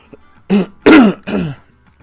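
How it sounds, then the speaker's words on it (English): Someone clears their throat in three rough, throaty bursts, close and loud, with short pauses between them. "Can't clear my throat."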